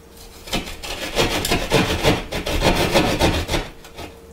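A hand saw cuts through a wall to make an opening for an in-wall gun safe, with rhythmic rasping strokes, close and fairly loud, easing off at the end.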